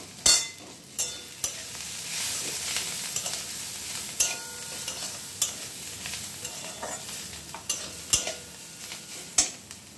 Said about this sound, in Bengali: এবার সবগুলো ভালোভাবে মিশিয়ে নেব